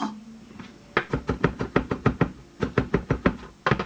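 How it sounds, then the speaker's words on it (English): A knife dicing ginger on a chopping board, a quick run of sharp, evenly spaced knocks, close and loud, pausing briefly before another burst of chops. "So yeah, we're just dicing up here."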